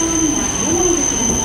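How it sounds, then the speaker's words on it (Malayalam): A Hayabusa bullet train in Japan rolls into a platform with a loud steady rumble, a wavering high squeal riding over it and a constant electrical whine. "കടലിന്റെ അടിയിൽ കൂടെ പോകുന്ന ഹയബുസ ട്രെയിൻ."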